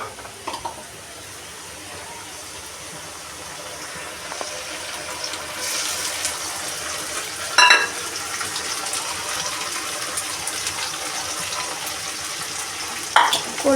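Spices hitting hot oil in a home kitchen pan give a steady broadband sizzle and frying hiss, with a few sharper clinks and scrapes of stirring partway through, close and fairly loud.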